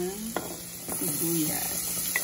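Onion frying in butter makes a soft, constant sizzle, with light scraping and clinks from stirring in the pan and a voice speaking briefly underneath.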